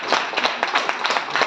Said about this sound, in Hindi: मृदुला जी के लिए मैं चाहता हूँ एक बार जोरदार तालियां हो